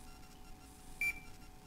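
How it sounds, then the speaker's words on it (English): While a Devo 7 transmitter is set up with a DJI Naza flight controller, a single short, high electronic beep rises briefly out of a quiet background hum, then the room goes quiet again. "It should beep once it does it."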